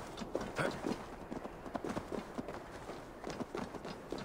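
Horse hooves in Assassin's Creed Valhalla clip-clop in a quick, steady running rhythm over a noisy outdoor game ambience, moderately close and continuous.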